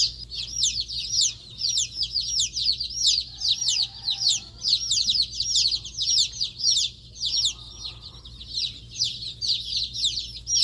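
Spring chicks in a hoop coop set up inside a barn peep in constant high, rapid chirps, many birds overlapping close by, over a low steady hum.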